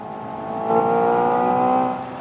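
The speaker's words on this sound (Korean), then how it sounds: "이그니션 내연기관 엔진 내부에서 실린더 위쪽에서 폭발을 할 때 나는 소리를 표현한 겁니다" A steady synthetic combustion engine drone played through the speakers of a Hyundai Ioniq 5 N, with a low, even hum that swells slightly in the middle, heard alone without voices.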